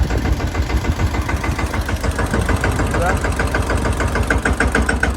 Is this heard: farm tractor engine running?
yes